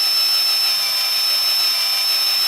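Drill cutting through a wrist pin bushing in a Volkswagen 1600 engine, a loud, steady high-pitched whine held without a break.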